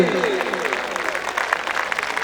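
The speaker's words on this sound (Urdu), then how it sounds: "تالیاں رکنی نہیں چاہیے جب تک کیمرے کی آنکھ آپ کو تصویر نہ کر لے۔" Audience applause at an annual college dinner at Rasheed Campus, Muslim College Multan, a dense patter of many hands clapping briefly, with voices and a low tone mixed in at the start.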